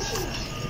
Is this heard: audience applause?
no